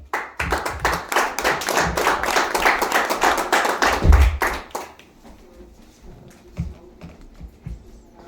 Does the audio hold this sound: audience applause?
yes